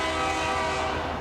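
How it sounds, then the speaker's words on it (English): A truck's double air horns mounted on top blare in one steady, loud, train-like chord with no gaps. "Notice the double air horns on the top, which give you this sound."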